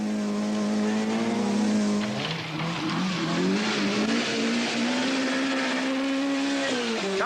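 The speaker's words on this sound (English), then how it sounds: "Hurling the diminutive Peugeot downhill to great effect is Michael Sundström" A small Peugeot rally car at the 1984 Welsh Rally of the British Rally Championship, driven fast downhill on forest stages. Its engine screams loud and close, with a steady high pitch that dips and climbs again through the gearchanges.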